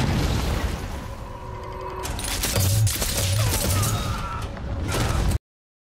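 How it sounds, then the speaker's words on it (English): Heavy, continuous gunfire and booming blasts from an episode of the Fallout TV series roll on loudly for several seconds with dense overlapping bursts, then cut off abruptly into silence. "What is he shooting? Little baby rockets?"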